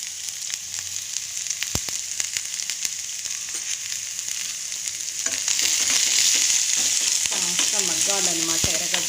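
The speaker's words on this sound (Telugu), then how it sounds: "ఇందులోకి సన్నగా కట్ చేసి పెట్టుకున్న ఎర్రగడ్డ వేసి వేయించుకోవాలి" Thinly sliced red onion with a broken dried red chilli frying in hot oil in a pan for a greens and peanut chutney, a steady close sizzle that grows louder and busier midway, with occasional stirring clicks and no talking.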